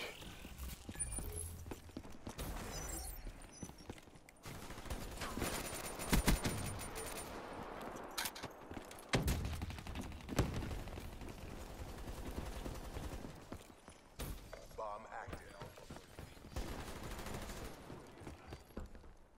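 Rapid-fire FFAR (FAMAS) bursts crackle in Black Ops 3 multiplayer Demolition, several dense volleys of automatic gunfire, loud and close, broken by short gaps and mixed with other game effects.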